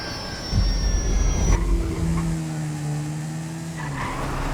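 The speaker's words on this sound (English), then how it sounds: "Bird strike. Plane's coming down." An airplane comes down after a bird strike in Grand Theft Auto V, with a loud roaring engine, a falling high whine that cuts off, then sustained droning tones as the plane descends.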